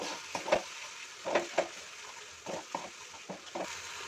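Spiced masala with Kashmiri chili powder sautéing over medium heat for Bengali dum aloo, with a steady soft sizzle and irregular scraping stirs of a spoon against the pan, close and moderately quiet.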